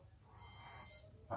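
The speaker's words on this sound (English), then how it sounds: "That's beeped." A brief electronic beeping tone from an Indesit dishwasher sounds for about half a second over low room hum, followed by a short clatter, quiet and close.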